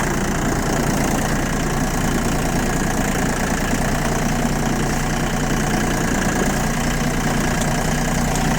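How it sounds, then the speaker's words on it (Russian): An ISEKI TA317 Japanese snow-clearing tractor with a bucket idles steadily, its engine a constant loud, close rumble with no breaks or talking. "Вот такая работа мотора. Без выхлопа абсолютно."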